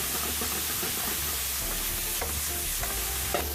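Thai spaghetti with chili is stirred in a hot pan, a continuous sizzle and frying hiss with scraping stir strokes and a few sharper clinks, close and steady throughout.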